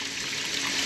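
Water rushing steadily through a poop tube sluice box, a continuous close, fairly loud gushing hiss with no pauses and no talk.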